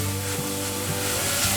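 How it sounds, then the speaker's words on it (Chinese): King oyster mushrooms and red bell pepper stir-frying in a hot pan, a steady close sizzle with faint stirring scrapes throughout. "把杏鲍菇和红甜椒炒软"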